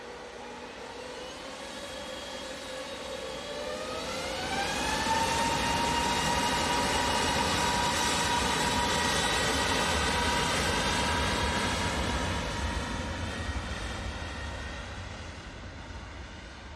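An EasyJet airliner takes off from Manchester Airport bound for Djerba, its engine roar swelling and rising in pitch as it passes, then fading gradually, heard from a distance with no talk.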